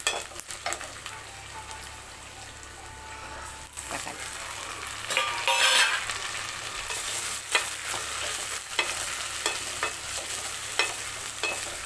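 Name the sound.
onions and tomatoes sautéing in a pan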